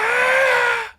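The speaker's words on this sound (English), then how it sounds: "It literally sounds like the Tom scream." A man's drawn-out scream plays from a video in the background, a single sustained high-pitched cry lasting about a second before cutting off.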